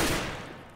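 Rapid burst of gunfire in the video game CS:GO, a short, loud volley of overlapping shots that tails off within a second, with no talk over it.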